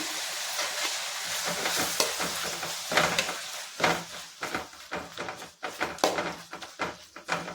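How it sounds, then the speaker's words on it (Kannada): Ginger garlic paste frying in a hot pan, a steady sizzle broken by repeated scraping stirs, close and moderately loud, with no voices. "ಹಸಿ ವಾಸನೆ ಹೋಗೋವರೆಗೂ ಚೆನ್ನಾಗಿ ಹುರ್ಕೊಳ್ಳಿ"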